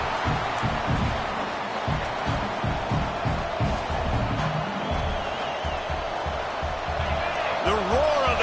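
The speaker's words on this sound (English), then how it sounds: "The roar of the crowd trying to fuel this defense to keep them pinned in their own end" A stadium crowd at a college football game roars in a dense, continuous wash of noise, with a commentator talking over it throughout.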